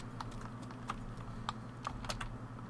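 Loud computer keyboard typing, with sharp individual key clicks in an irregular, quick rhythm close to the microphone and no voices over them.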